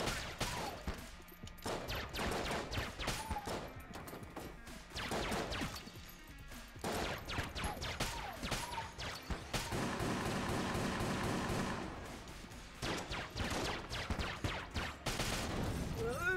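Bursts of rapid gunfire and sharp crashes in the video game Enter the Gungeon come in dense volleys, with short gaps between flurries and faint voices underneath.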